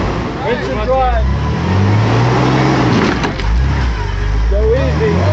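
Off-road vehicle climbing a rock trail while winching, engine revving loud and continuous with creaking, straining strain and shifting pitches, a brief dip midway, people talking over it.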